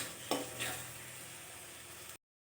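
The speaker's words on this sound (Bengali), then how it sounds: "এবার সবগুলো মিশ্রণকে খুব ভালোভাবে কষিয়ে নিতে হবে।" Spice paste of dry red chilli and cumin frying and being stirred in oil for a soya chunk curry, a steady broadband sizzle with two quick scraping strokes near the start, close and fairly quiet, no voices.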